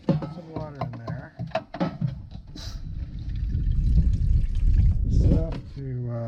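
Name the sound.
water poured into seed starter tray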